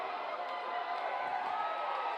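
A baseball crowd at a Division III championship game cheers a home run to left field. The cheering is a steady, distant roar that holds without a break.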